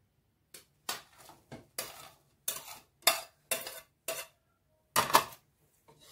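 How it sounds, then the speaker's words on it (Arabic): Spoon stirring minced garlic, cut potatoes and eggplant in oil in a pan, a series of about a dozen distinct scraping, clinking strokes in an irregular rhythm with brief gaps and faint sizzle between. "وهنقلب بقى المكونات بتاعتنا"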